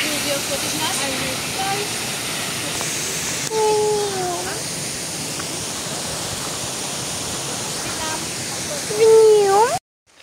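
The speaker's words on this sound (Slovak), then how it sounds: "teraz ste mohli vidieť úplne krásny vodopád" A waterfall along a hiking trail gives a constant broadband roar, while a voice speaks briefly over it and the sound cuts off abruptly at the end.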